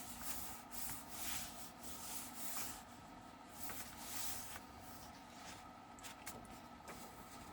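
Paper craft piece being rubbed down by hand, a steady soft scraping friction with rhythmic strokes, close and continuous, no voices.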